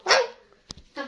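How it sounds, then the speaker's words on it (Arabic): A dog gives a loud, close bark, followed after a short pause by a couple of quicker, smaller yips and a further bark, with no talking over it. "يعني انا كلبي بيهوهو"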